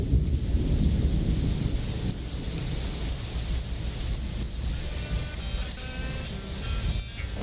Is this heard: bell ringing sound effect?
no